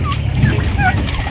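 Turkeys of an upgraded breed raised for roasting gobble and cluck nearby in a loud, busy flock, with the calls overlapping in one short burst.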